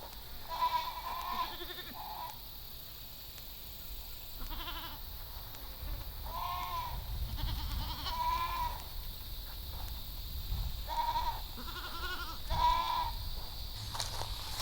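Several goats bleat repeatedly near a polywire fence on a farm, loud nearby calls in clusters separated by short gaps over a low background rumble, with no talking.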